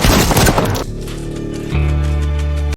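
Gunfire in a film action scene where a woman shoots down criminals bursting into a room: a dense loud volley of shots at first, then deep sustained booming and rumble, ending abruptly.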